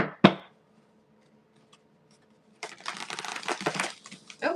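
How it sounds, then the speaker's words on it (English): Tarot cards being shuffled, one quick snap at the start, then near silence, then a dense close-up riffle and flutter of cards that runs to the end. "Oh, that wasn't a good shuffle."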